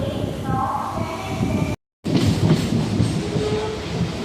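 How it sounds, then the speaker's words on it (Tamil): A local train rumbles and clatters as it departs Chennai Central station, steady rolling noise with a brief gap, while people talk faintly in the background. "ட்ரெயின் வந்து சென்ட்ரல்லேருந்து ஸ்டார்ட் ஆகிடுச்சு."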